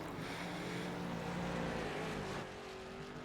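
A stock car in a sim racing oval event at Concord does a burnout. Its engine holds a steady, loud, high revving roar mixed with rough tire noise, then drops slightly near the end.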